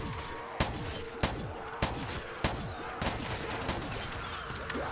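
Death machine minigun firing in a Call of Duty custom zombies map, heard as loud sharp bursts roughly every half second over a dense, noisy game mix, with rapid shots clustering toward the end.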